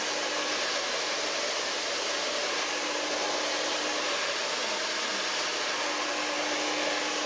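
A hair dryer blows steadily on hair being blow-waved, a loud continuous airy roar that runs unbroken the whole time with no voices.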